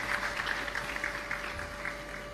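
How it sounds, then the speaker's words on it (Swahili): Audience applause at a business investment summit in Micheweni, Pemba, Zanzibar, a steady patter of clapping that holds at an even level throughout, with no voices over it. "Tunawapongeza kwa kuwapigia makofi"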